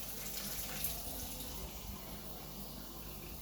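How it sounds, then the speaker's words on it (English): Water pours steadily from a tap into a roaster pan being readied for a whole oven BBQ chicken, a short continuous splashing fill at close range. "So you just go ahead and add some water."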